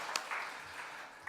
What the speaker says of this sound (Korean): 우리 서로에게 따뜻한 사랑의 격려의 박수 함께 나누겠습니다